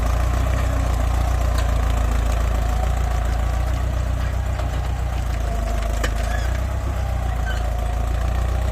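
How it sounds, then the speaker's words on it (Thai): A Ford 6640 four-cylinder, 90-horsepower tractor engine idles at low revs in a field, giving a steady, continuous low drone with a faint knocking texture throughout, with no talk over it. "รอบเครื่องเบาๆครับ หก4 0สี่ศูนย์ครับขนาดเก้าสิบแรงมาครับ เป็นเครื่องสี่สูบนะพี่น้อง"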